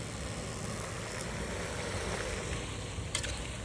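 Pad kaphrao, a holy basil stir-fry, sizzling and frying steadily in a pan, a dense continuous hiss close by with faint scraping from stirring and no talk.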